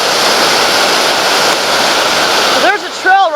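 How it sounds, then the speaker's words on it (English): Loud, continuous rushing of a fast river near Lena Lake in the rain roars throughout, with brief bird chirps near the end as the roar dips slightly. "the water is raging"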